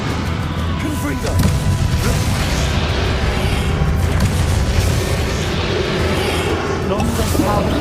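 Booming spell explosions and crashing impacts in Hogwarts Legacy, a Confringo fire blast amid a dense, continuous battle din with voices mixed in throughout.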